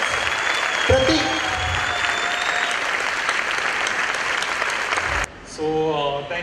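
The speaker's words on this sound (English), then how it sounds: "Can we have a big round of applause for him?" Loud, sustained applause from an audience in a hall at an award ceremony for a top exam ranker, dense clapping throughout, with a voice briefly speaking over it near the end.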